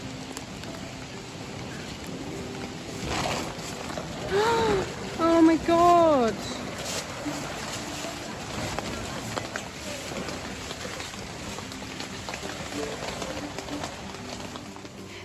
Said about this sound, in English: just so much rain